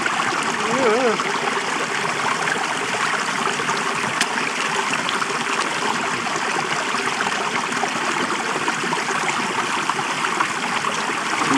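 Cold mountain stream water runs steadily in the French Alps as feet are washed in it, a constant close rush and trickle with a voice briefly audible over it.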